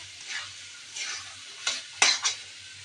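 A chickpea dish being stirred and sautéed in a pan for iftar. A short stretch of soft sizzle carries a few scraping spoon strokes, the louder ones near the end, close up and without talk.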